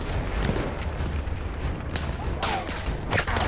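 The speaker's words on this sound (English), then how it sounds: "Can somebody stop firing at me for one fucking second?" Battlefield 1 battlefield din with rumbling booms and scattered gunfire, continuous and dense, a couple of sharper cracks standing out near the end.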